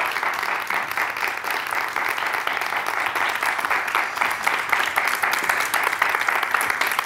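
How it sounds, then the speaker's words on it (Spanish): An audience gives a loud, sustained round of applause for two Special Olympics athletes, with dense, continuous clapping running throughout. "Un aplauso muy grande para Marta Molina y Lidia Latorre."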